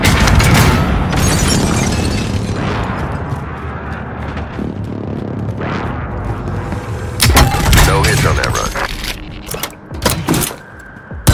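Airstrike explosions in a first-person military shooter game rumble as a series of loud, heavy booms layered over continuous battle noise, with sharper blasts bursting out near the end.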